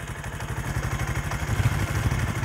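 A parked motorcycle idles with its engine running, giving a rapid, even low-pitched putter with slight rattly clatter. It is fairly close and steady, with no talk.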